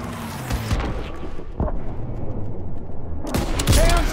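Gunfire in a World War II Call of Duty battle, with loud bursts of shots and booms over steady combat noise, a dense fusillade at the start and again near the end.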